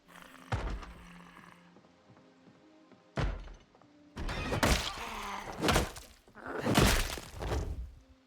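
In the game Project Zomboid, a zombie bangs on a door with heavy thuds: one isolated knock, another after a pause, then a flurry of loud, rattling blows close by.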